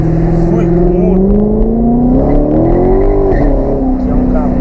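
A Fiat Uno engine hums steadily, its pitch climbing gradually as it accelerates, loud and close with a voice talking over it.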